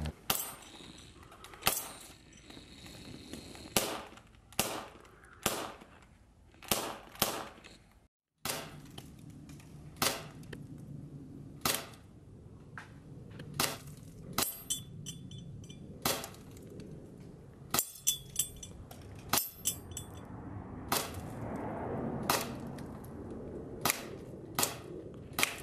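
.177 air pistol shots hitting a steel target and a metal can, heard as a series of sharp, close snaps with metallic clinks, irregularly spaced over the whole stretch, with no talking.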